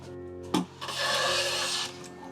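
A hand plane shaving wood after blade sharpening and setting: a sharp knock, then one smooth rasping stroke lasting about a second, close and clear with no talk.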